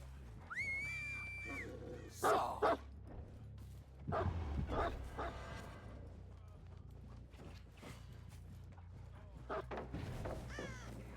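A dog barks in a competitive video game match, several sharp barks and yips in short bursts amid game effects and mechanical clatter.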